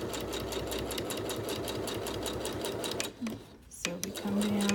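A sewing machine runs steadily while stitching binding onto coasters, a continuous rapid mechanical whir that briefly stops near the end before resuming, with a voice speaking quietly underneath.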